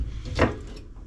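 A small slide-out storage drawer in a 2026 Jayco Discovery Outback 19ft family caravan gives a single short wooden slide-and-thud, close and brief.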